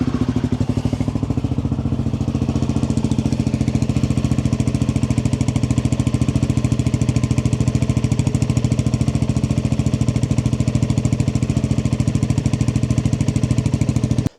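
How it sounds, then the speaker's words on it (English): A Royal Enfield Himalayan 450 motorcycle idles with a decat link pipe fitted, a loud, steady, rapid thumping exhaust beat close up that carries on without a break until it cuts off at the end. "Let's fire up the bike with the decap pipe."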